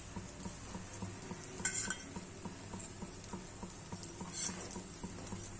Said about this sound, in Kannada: ದೋಸೆ ಹಾಕೊಳ್ಳೋಣ. ಎಣ್ಣೆ ಹಾಕೊಂತ ಇದ್ದೀನಿ ಇವಾಗ.